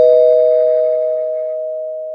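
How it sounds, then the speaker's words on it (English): A single bell is struck once as a spoiler warning, ringing with a clear sustained tone that decays slowly over a couple of seconds, alone with no talk. "I'm going to ring the bell"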